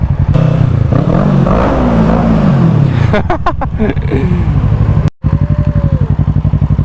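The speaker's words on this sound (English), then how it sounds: "I wanna hear that bike" A motorcycle engine runs loud and close, with a rough throbbing idle, a rising rev and chattering mechanical clatter, ending in a rhythmic pulsing idle.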